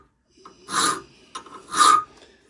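A metal file works inside a hole, making two close, rasping strokes separated by a short pause and a faint scrape.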